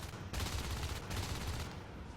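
Rapid gunfire from the video game Natural Selection during a tournament match, heard as a quiet, distant stream of automatic shots in bursts with brief pauses between them.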